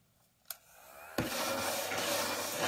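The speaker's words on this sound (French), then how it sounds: "C'est un aspirateur de table." A small ladybug-shaped tabletop vacuum cleaner starts with a click and then runs with a steady, close whirring hum as it sucks up loose cut eyebrow hairs.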